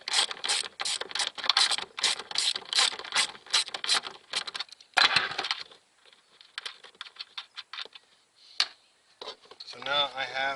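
A ratchet works a 10 mm bolt loose from an interior panel of a VW MK6 GTI, giving rapid clicking bursts, some near and some quieter, broken by pauses, with brief talking near the end.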